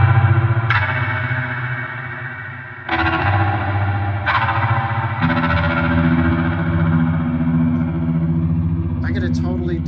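Electric guitar through an HX Stomp with the effect placed ahead of the drive, giving sustained distorted chords with chorus-like shimmer and echo. New strums ring out at intervals, close and loud, and a few faint scratchy notes come at the end.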